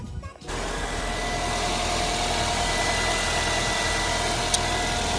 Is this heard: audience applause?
no